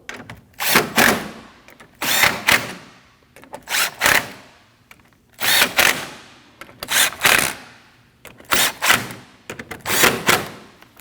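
A power tool runs in repeated short bursts, tightening the 10mm bolts above the grill of a 2013-2019 Ford Escape 1.5L during a radiator replacement, each burst whirring loudly up close with brief pauses between.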